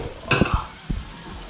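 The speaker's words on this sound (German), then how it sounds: "Dann einfach nochmal in die Pfanne, bis es schön eingezogen ist." Marinated meat for a Vietnamese banh mi sandwich frying in a pan, heard close with a steady sizzle and a few short scraping stirs, no voices.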